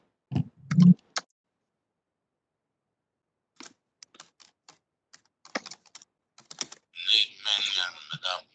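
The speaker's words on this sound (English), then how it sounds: "Typing it, hold on." Close keystrokes on a computer keyboard during a transportation committee meeting, with scattered, irregular taps spread over several seconds and brief speech at the start and the end.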